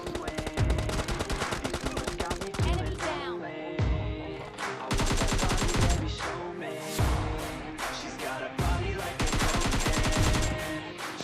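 Rapid automatic gunfire in the mobile shooter PUBG Mobile Lite, with loud repeated bursts of shots and echoing cracks that fill the clip almost continuously, near and aggressive.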